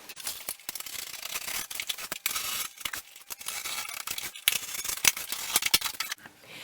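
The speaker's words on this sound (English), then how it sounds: "I'm just going to cut that out now using my craft knife." A craft knife slices through paper for a shadow theatre puppet, close and crisp, in short repeated scraping strokes separated by brief pauses.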